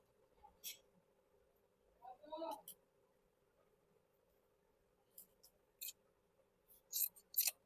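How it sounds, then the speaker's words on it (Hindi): Scissors snip through cloth while cutting a pillow cover in a beginner sewing lesson, giving a few short, faint crisp cuts in scattered bursts, with a voice talking quietly in between. "अभी डोरी के लिए भी हम लोग ये टुकड़ा से काट लेंगे।"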